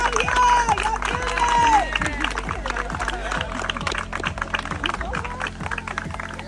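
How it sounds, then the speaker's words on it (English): Crowd cheering and clapping for four contestants after a game challenge, mixed with loud music and bursts of voices, energetic and busy rather than clean applause. "let's give a round of applause to these 4 badasses down here"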